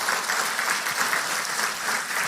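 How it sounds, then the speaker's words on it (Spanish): A church congregation applauding during a sermon, a dense, sustained clatter of many hands clapping throughout, moderately loud and continuous with no voices over it. "Dale un fuerte aplauso."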